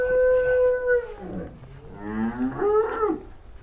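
Cattle at a dairy farm where cows are being sold: two drawn-out moos, one steady and one wavering, come close and loud with a short pause between them.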